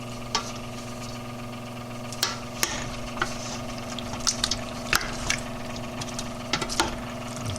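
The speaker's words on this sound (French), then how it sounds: "On attend que ça chauffe un peu et on touille bien." Meat and tomato paste cooking in a pot for couscous, a low steady simmering hum with scattered small clicks and scrapes of a spoon stirring, fairly quiet and without talk.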